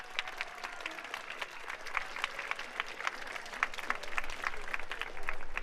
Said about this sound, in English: So one more round of applause for all of these guys.